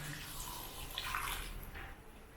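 Water from cooked lentils poured into a pot of sambar with pumpkin, broad beans and tomato on the stove, a soft steady splashing pour that tapers off, close and fairly quiet.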